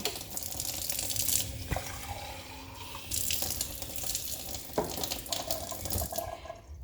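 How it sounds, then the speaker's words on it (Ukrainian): Tap water runs steadily from a kitchen faucet into a small glass, a continuous close hiss and splash lasting several seconds with no speech. "а другий стаканчик набираю просто із крана"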